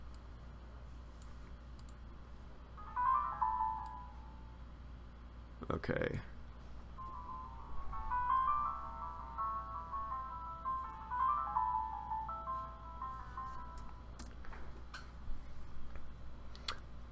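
Sibelius notation software plays back a newly composed piece as a faint, thin synthesized melody in short phrases, broken by a sharp click, with a single word spoken near the start.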